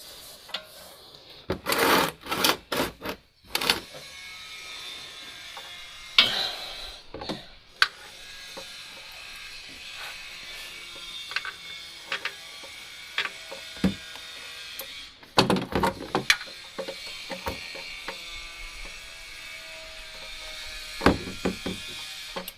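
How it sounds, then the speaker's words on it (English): A 3/8 ratchet loosens the oil drain plug on a Ford Shelby GT350, giving close bursts of clicking and metallic scraping with quieter gaps between them. "Just need to get in there with a 3/8 ratchet"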